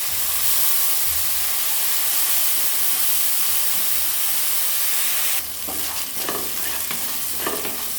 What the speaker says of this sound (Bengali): চালটাকে আমি ভালো করে ভেজে নেব।